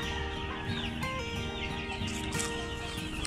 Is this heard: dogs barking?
no